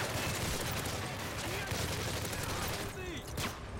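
Gunfire in Call of Duty: Modern Warfare 3, a dense, continuous crackle of shots and bursts running the whole time at steady loudness, with a voice talking over parts of it.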